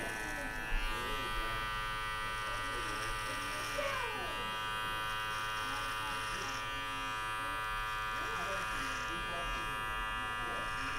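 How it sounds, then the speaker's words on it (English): Electric beard clippers hum steadily through a freehand trim of a coarse beard during a shadow fade haircut, a continuous close buzz with slight changes as the blade glides, and a voice talks quietly over it. "as long as your tension on the clipper isn't too heavy, it will hover along the hair and make it easier for you"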